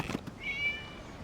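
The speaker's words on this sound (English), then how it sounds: "It was just a cat." A cat meows once in the Genshin Impact video game, a clear, rising tonal mew, close and alone after a brief soft noise.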